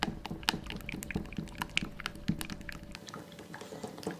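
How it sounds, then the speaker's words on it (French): Chocolate melting into liquid cream is stirred briskly with a silicone spatula in a bowl, giving soft wet scraping and sloshing with irregular clicks and taps against the sides, close and fairly quiet, with no talking. "à l'aide d'une maryse, je vais venir remuer vivement au centre pour émulsionner le mélange"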